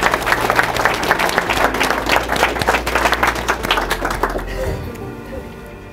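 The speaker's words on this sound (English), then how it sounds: "Please give him a warm round of applause." An audience applauds at a clean hydrogen plant groundbreaking ceremony in Melbourne, Florida, a loud, even patter of many hands clapping for several seconds before thinning out near the end.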